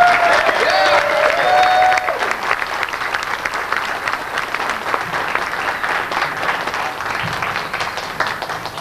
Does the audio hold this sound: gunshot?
no